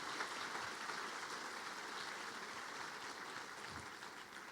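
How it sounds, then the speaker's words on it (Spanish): A church congregation applauds during a sermon, a faint, even wash of clapping heard from a distance that holds steady throughout. "Dale ese fuerte aplauso al Señor por su amor y su misericordia."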